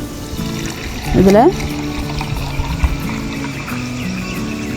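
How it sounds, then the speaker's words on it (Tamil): Soda poured into a large jar for Kerala-style fuljar soda gives a brief splashing gush under steady talk by a woman, with kitchen noise continuing around it. "இது ஃபுல்லாக நம்ம ஊற்றிக்கணும்"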